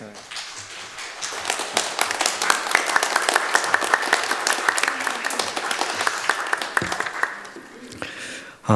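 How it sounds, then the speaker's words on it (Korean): A church congregation claps steadily for several seconds, a dense crackle of many hands that fades out near the end. "박수로."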